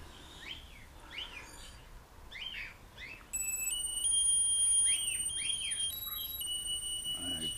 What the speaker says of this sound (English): you know you've turned on the drone with that awful beeping sound